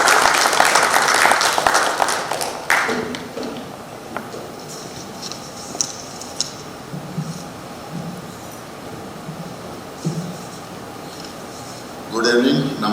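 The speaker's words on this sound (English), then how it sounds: "Let's give him a resounding round of applause." An audience at a conference inaugural function in Goa applauds an association president: a brief burst of full clapping that fades after a couple of seconds, followed by a voice speaking over a murmuring hall.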